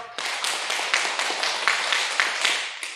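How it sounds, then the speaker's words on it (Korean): A church congregation claps quickly and lightly in unison, a run of about ten small crisp claps in a steady rhythm, close and clear with no talk over them. "짧은 박수, 큰 박수 말고 작은 박수 10번 시작."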